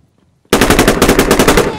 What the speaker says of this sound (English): I hear gunshots now.